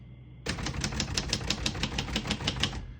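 Keys struck on a 1964 Royal Safari portable typewriter, a rapid even run of about a dozen crisp clacks after a quiet start, close and loud with no voices.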